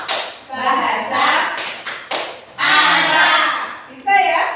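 Children in a classroom clap their hands in rhythm to a chanting lesson, several sharp group claps landing between their loud sung and spoken chant lines.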